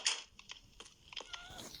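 Short cat meows in the video game Minecraft, a few soft high-pitched calls over about two seconds against quiet game background.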